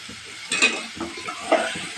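Hot oil sizzles and crackles in a pan while cooking drumstick curry, with a few stirring scrapes and small bursts of louder spitting.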